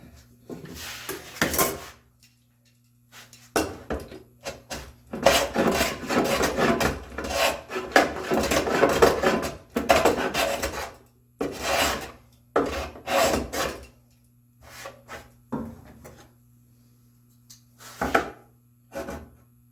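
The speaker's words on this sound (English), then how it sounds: "I'm starting to get really good at this planing end grain" Hand plane shaving walnut end grain on a bookcase build: a series of loud, raspy scraping strokes, some long and some short, in irregular rhythm with pauses between passes, close up and without talk.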